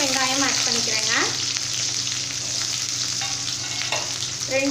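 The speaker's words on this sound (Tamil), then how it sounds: "கடுகு வந்து நல்லா பொரியட்டும்" Mustard seeds splutter and crackle in hot oil for a Tamil drumstick kootu curry, a steady loud sizzle with scattered pops, close and with no talking.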